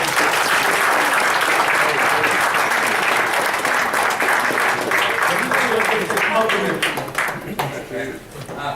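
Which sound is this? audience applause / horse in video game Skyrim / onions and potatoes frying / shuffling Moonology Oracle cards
audience applause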